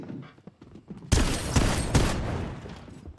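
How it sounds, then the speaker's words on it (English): Gunfire in a Fortnite FNCS Weekly Finals match, with a burst of loud, dense overlapping shots kicking in after a quieter start and carrying on as sustained rapid fire with a few sharper cracks. "Oh, they're getting shot at."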